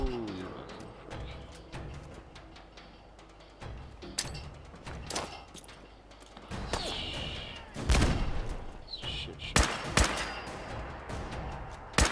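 Scattered gunshots in the video game Fallout, sharp loud cracks arriving irregularly, some in quick pairs, over quieter thuds and background noise.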